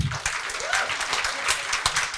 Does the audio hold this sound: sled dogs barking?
no